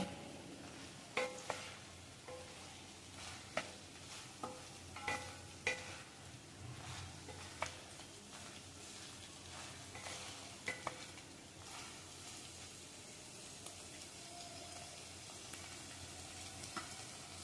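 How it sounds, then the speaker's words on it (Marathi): Mixed vegetables sauté in butter in a pan with a continuous quiet sizzle, punctuated by occasional clinks and scrapes of stirring. "आता आपण भाज्या परतून घेतलेल्या आहे."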